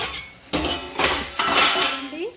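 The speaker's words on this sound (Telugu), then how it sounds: "2 నిమిషాలు అయిన తర్వాత మూత తీసుకొని చూసుకుందామండి" Metal clanks and scrapes as a lid is lifted off a pot of frying onions, a few sharp clinks close by, with a brief voice underneath.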